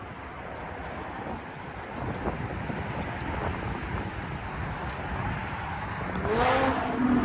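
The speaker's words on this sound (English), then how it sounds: "Big engine." A big-engined vehicle on the Belt Parkway near a bridge rumbles past amid wind and traffic noise, swelling louder toward the end as it draws close, with a faint higher whine rising over the roar.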